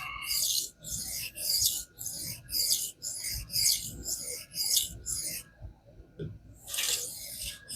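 A knife is sharpened on a King whetstone, rhythmic wet rasping strokes in quick repeated bursts, each a short gritty swish, with a brief pause before a final longer stroke; close and clear, no talking.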